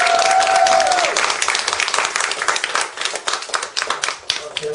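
A meeting audience applauds at a club's annual general assembly, with dense clapping that begins full and loud, then thins into scattered, uneven claps toward the end; a sustained tone is briefly heard near the start.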